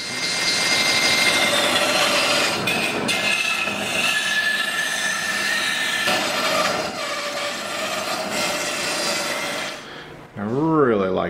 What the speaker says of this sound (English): we're going to cut a chunk of it off on the bandsaw